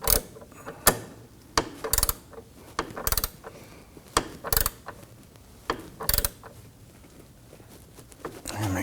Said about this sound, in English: we're going to use a regular 6 Allen wrench and get our gear wrench inside there